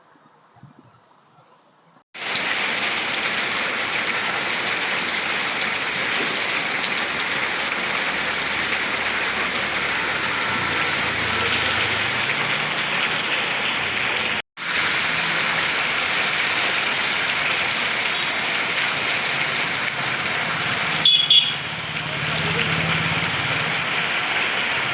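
Rain falls over a city in a steady, loud hiss of drops on surfaces that starts abruptly after a quiet moment, with a brief dropout midway and a short bump near the end.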